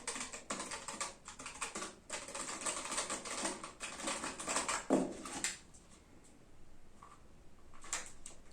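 Someone types on a Keychron K1 V4 keyboard with tactile switches, a quick, fairly loud clatter of keystrokes that stops after about five seconds, followed by a few scattered taps.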